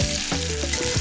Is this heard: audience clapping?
no